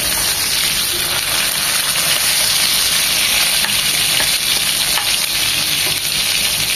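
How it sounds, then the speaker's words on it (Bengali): Hilsa fish frying in hot oil, a loud, steady, dense sizzle with continuous bubbling crackle throughout. "1 মিনিট হয়ে যাওয়ার পর আমরা আবার ওই পাশটা 1 মিনিট ভাজবো।"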